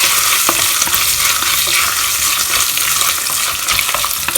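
Dry spices and grated ginger frying in a pan on a low flame, with a loud, steady sizzle and intermittent scraping taps from stirring, close up and with no voices.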